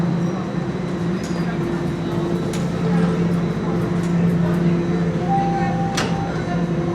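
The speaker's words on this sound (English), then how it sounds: "That sounds like the subway now." Toronto subway train on Line 1 heading to Finch, a steady low rumble and hum filling the whole stretch, with a few brief clanks and a rising tone near the end, people talking faintly underneath.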